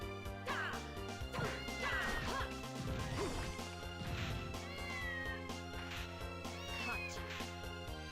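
A cat meows in the Castlevania Order of Ecclesia video game, short high mews repeating over looping game music and clashing hit sounds, set back in the mix.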